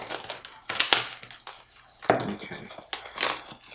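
A knife cuts into the plastic wrap packaging of a Yi Lite Action Camera, making close, crinkly, crunching bursts in several short irregular spurts, with one brief spoken word.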